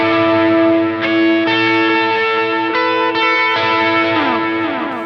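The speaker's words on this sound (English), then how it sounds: "I turn on another delay and some more reverb, and I switch to the bridge pickup." An electric guitar on the bridge pickup, driven with delay and reverb, rings out sustained chords that change a few times and hold close and loud, with echoing repeats trailing each change.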